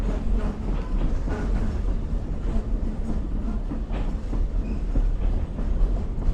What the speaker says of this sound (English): It looks like one of our freight trains passing through this area